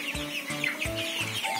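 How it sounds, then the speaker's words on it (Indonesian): Healthy farm chickens crowd together in a sunlit coop to drink, clucking steadily in short repeated calls, close and fairly loud, with no voices over them. "Pokoknya ini ayam-ayamnya sehat pada rebutan semua minum."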